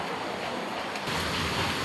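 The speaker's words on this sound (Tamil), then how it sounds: "நல்லா பெய்யுது, நல்ல மழை." Heavy rain pours in Bangalore as a dense, steady hiss, close and unbroken, growing slightly fuller partway through, with no voices.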